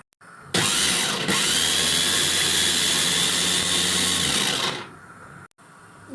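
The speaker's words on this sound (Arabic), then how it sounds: "اهو هنزله بقى في الكبه كده عشان اضربه" Blender whirring loudly as it purees fresh green vegetables for a taro and chicken dish, a steady motor roar of about four seconds that starts and stops abruptly, with no talking.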